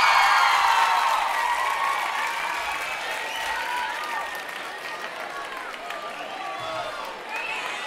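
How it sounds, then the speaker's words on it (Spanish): Concert audience at Sala Bikini applauding and cheering a rock band's guest, a dense wash of clapping and crowd noise that stays fairly loud throughout, with faint talk mixed in. "Un aplauso para él."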